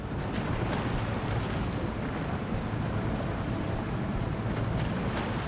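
A heavy truck pushes through deep water in the SnowRunner video game, giving a steady, dense rushing and sloshing wash with a low engine rumble that holds at even loudness throughout, with no voices.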